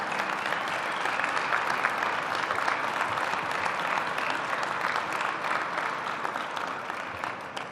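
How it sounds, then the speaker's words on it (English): A large audience at the ribbon cutting for the new UBS Arena on Long Island claps steadily in a dense, sustained round of applause that tapers slightly at the end. "Let's give them another round of applause."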